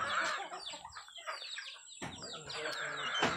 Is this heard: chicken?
yes